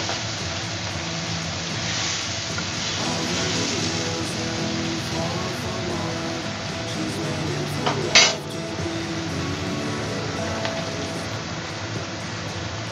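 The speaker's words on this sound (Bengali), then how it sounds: "মশলাটাকে এবার ভালো করে কষিয়ে নিতে হবে" Spice masala is sautéed and stirred in a pan for Bengali pointed gourd curry, making a loud, continuous scraping hiss with one sharp metallic clank partway through.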